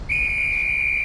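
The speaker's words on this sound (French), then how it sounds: "Je viens juste de siffler pour signaler le but." A referee's whistle in a street football match signalling a goal, one sharp, loud, steady blast held for about a second.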